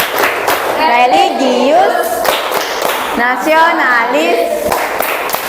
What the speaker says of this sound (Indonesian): kita sama-sama tepuk PPK dulu ya. Nah, tepuk PPK.